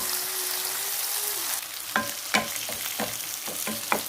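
Mackerel frying in a pan with a steady sizzle, then a series of sharp scrapes and knocks as the fish is turned over, the sizzle dropping after the flip.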